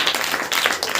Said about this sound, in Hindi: ताली बजाकर परमेश्वर।